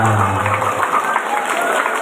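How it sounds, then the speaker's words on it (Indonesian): An audience of students at a school Isra Miraj gathering claps for children, giving a short, dense burst of applause that stays steady and loud throughout, with a brief low voice at the start. "tepuk tangan untuk anak-anak yang luar biasa"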